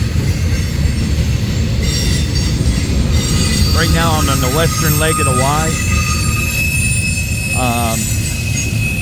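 A freight train rolls through a railroad wye with a constant loud rumble, and its wheels squeal in wavering high tones for several seconds. Someone speaks briefly over the noise.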